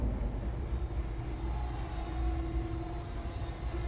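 A train rolling along tracks in the video game Fallout 3, a steady low rumble with a faint tonal whine, continuous and even at moderate loudness.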